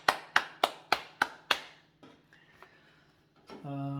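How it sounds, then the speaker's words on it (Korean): Church congregation clapping in unison for the Lord, six sharp, evenly spaced claps close together, then a quiet stretch ending in a sustained tonal hum. "주님께 우리 영광의 박수 합시다."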